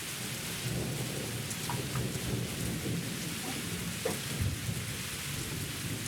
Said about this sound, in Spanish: Entonces empieza a llover muy pasito, miren que apenas están cayendo gotas